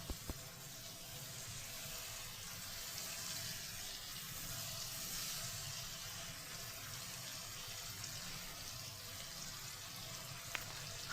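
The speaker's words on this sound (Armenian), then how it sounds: "Ավելացնում եմ մի փոքր ջուր" Water pours steadily into a pot of tomato-style sauce for pasta with meatballs, a faint continuous splashing stream lasting several seconds with a couple of small clinks.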